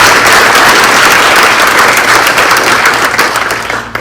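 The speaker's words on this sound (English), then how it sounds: "How about a big hand of applause for all the guests?" Audience applause for the guests at a 30th anniversary celebration of a housing partnership, a dense, steady burst of many hands clapping throughout, with a faint crowd murmur underneath as it begins to taper at the end.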